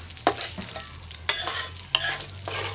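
Hilsa fish frying in oil in a village kitchen, a soft steady sizzle with three or four sharp crackling pops and spatters, close and fairly quiet.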